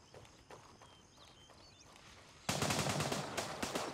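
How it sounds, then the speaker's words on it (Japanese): Gunfire in the military shooter game Gray Zone Warfare: scattered faint distant shots at first, then a sudden loud, sustained burst of rapid fire that continues to the end. "すごい銃声がしてる。"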